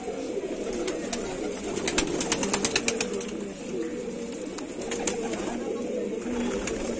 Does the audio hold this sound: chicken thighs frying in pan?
no